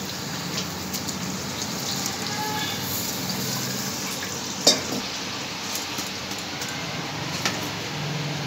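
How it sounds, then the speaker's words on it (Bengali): Puris deep-frying in hot oil for chola bhatura, a steady close sizzle and bubbling hiss throughout with a few faint clicks and taps of a utensil. "এইভাবে সব পুরিগুলো আমি ভেজে নেব।"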